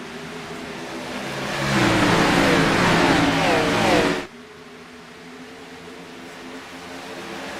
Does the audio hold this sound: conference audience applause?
no